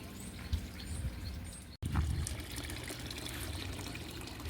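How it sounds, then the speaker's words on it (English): Water trickling steadily in a front garden pond that holds fish, a constant close splashing wash with a brief thump partway through and faint bird chirps in the background. "My beautiful front pond."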